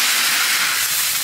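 Oil and sauce hiss fiercely in a hot pot, a dense, steady sizzle filling the whole moment, loud and close with no voices.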